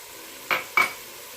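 Meat with rosemary and sage searing in a pan for beef stroganoff: two quick, close stirring scrapes over a faint, steady sizzle.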